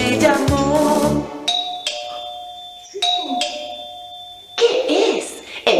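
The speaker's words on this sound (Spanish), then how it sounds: "El timbre alguien tocó." A doorbell rings twice in a child's sound-recognition song, each a clear sustained electronic ding tone, with sung voices and music before and after.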